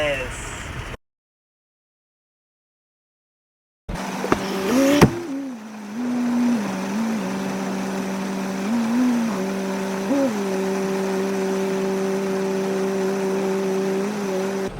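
A pickup truck fitted with tractor tires spins donuts at a truck meet, its engine droning loudly and steadily with repeated rising and falling revs, after a brief silent gap, with people talking nearby.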